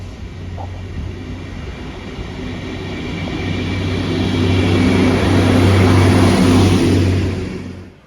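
A Tampa train passes through a station in Cheshire, its rumble swelling louder toward the middle and then cutting off near the end.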